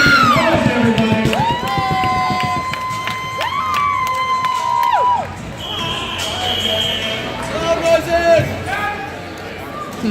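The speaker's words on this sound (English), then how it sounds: "Clap your hands, stomp your feet, do what you gotta do. Let's make some noise, everybody." A crowd cheering between rounds at an AX Fighting MMA event, with shouts and whoops rising over an announcer's voice on a loudspeaker, lively and fairly close.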